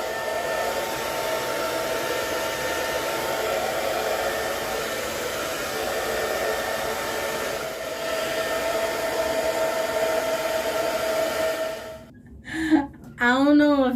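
Home hair dryer blowing steadily with a loud, even whoosh for most of the stretch, then cutting off near the end as a voice briefly follows.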